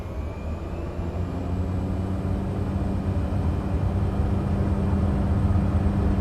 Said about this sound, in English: Set takeoff power.